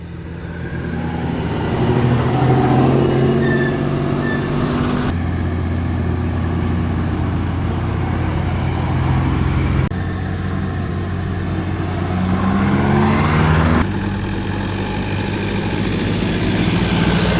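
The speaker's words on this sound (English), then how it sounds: "Certainly sounds like a V6." A V6 car engine at a classic car show runs steadily and loudly nearby, a deep rumbling idle with occasional shifts in pitch as it revs slightly.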